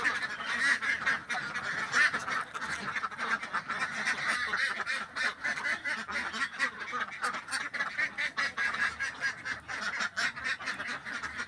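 Ducks on an egg-laying duck farm: a dense, continuous chorus of many honking quacks, loud and close, overlapping without pause for the whole stretch.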